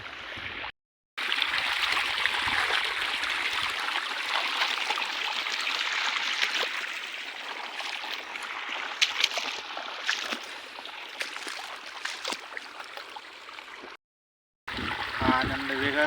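Irrigation water flows steadily into a farm field, with a continuous broadband rushing and trickling close by that carries on almost without a break, and voices talk over it now and then.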